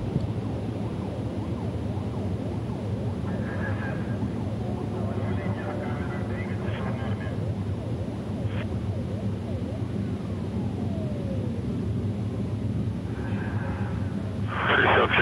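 A Soyuz rocket's four boosters and single core engine burn during an Expedition 44 launch to the space station, a steady, distant, low rumbling roar that goes on throughout beneath faint radio chatter and beeps.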